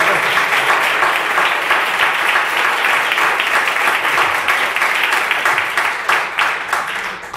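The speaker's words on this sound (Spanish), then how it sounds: "Un aplauso a Ecologistas" An audience applauds environmental activists from Ecologistas at a public water pact signing in Sanlúcar, dense steady clapping filling the room for about seven seconds before thinning toward the end.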